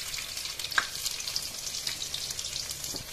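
Garlic and spices frying in hot oil for a red spinach (chaulai saag) tadka, giving a steady, dense sizzle with faint crackles throughout, close and continuous with no talk.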